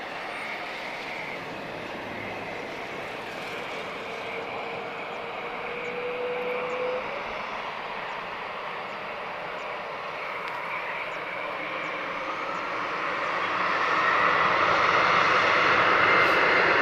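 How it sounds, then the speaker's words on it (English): A TAP Express Embraer E190 jet at Lisbon Airport gives a broad, distant engine roar that swells gradually and grows loudest toward the end, with no talk over it. "This is a Embraer E190 long range."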